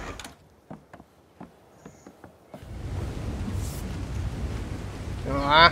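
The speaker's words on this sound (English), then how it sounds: "ah, man, it's raining." Rain in the video game ARK: Survival Evolved: a few sparse taps give way to a steady wash of rain that swells louder, with a low rumble beneath and a brief rising tone at the end.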